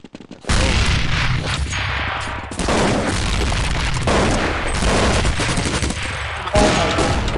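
Loud gunfire and blasts fill a Counter-Strike 1.6 round on the Inferno map, a dense continuous barrage with a sharp new burst partway through and no talk over it.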